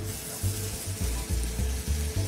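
Pork tenderloin with an apricot glaze sizzles steadily on a grill while it is basted, a continuous close hiss broken by dull low knocks and scrapes.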